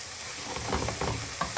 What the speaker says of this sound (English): we're going to saute those a little bit, get them nice and softened up